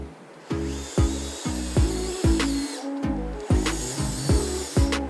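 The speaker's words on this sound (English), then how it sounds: "now we can attach the front bumper to the bulkhead with 4 screws" Four screws driven in with a power driver to fix the front bumper to the bulkhead of a Traxxas 2WD Stampede RC truck; short, close, repeated whirring bursts in a steady rhythm, about one each second, with no talk.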